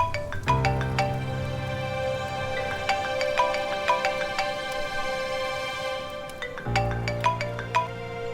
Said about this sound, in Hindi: कब से फोन लगा रही हूँ, उठा ही नहीं रहे हो तुम